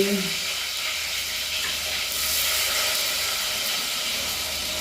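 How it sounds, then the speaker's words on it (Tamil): Fenugreek seeds and garlic fry in hot oil with a continuous, close sizzling hiss that stays fairly even throughout, with no clear talking. "அந்த சூட்டில் அடுத்தது வந்து வெந்தயம் போட்டு வதக்கி போட்டு"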